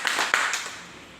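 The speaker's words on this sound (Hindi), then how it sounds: "तो एक बार जोरदार तालियां।" Audience applause at a business plan presentation show, a short burst of clapping that rises quickly and then fades away over about a second.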